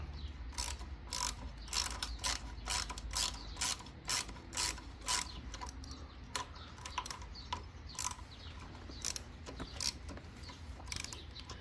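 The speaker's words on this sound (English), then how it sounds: "gonna remove this bolt here with a 1/2-inch socket" A ratchet socket wrench with a 1/2-inch socket works a bolt loose on a Harley-Davidson Sportster during a lifter replacement. It gives a series of close, crisp ratcheting clicks in uneven bursts over a low background hum, with no talking.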